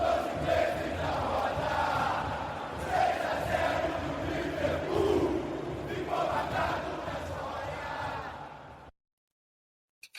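A loud crowd cheering and shouting throughout, dense and continuous, as part of a segment jingle for a football fan podcast, cutting off abruptly to silence near the end.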